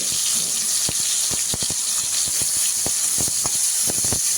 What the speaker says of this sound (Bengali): এই তেলে এবার আমি বেগুনগুলো ভেজে নিচ্ছি।